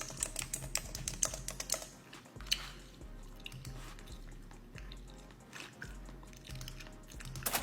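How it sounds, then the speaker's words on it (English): ASMR typing on a computer keyboard produces rapid, crisp key clicks and taps in irregular bursts, close to the microphone. A low, rhythmic background pulse runs underneath, and no one speaks. "that ASMR typing on the keyboards"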